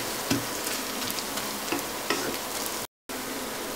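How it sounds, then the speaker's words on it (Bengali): Onions frying in a pan for a spiced chickpea dish, a close, steady sizzle with faint stirring scrapes and a brief moment of silence. "পেঁয়াজটা ভাজতে ভাজতে দেখতেই পাচ্ছেন এরকম নরম হয়ে গিয়েছে।"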